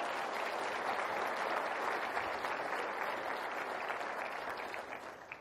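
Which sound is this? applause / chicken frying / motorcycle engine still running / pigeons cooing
applause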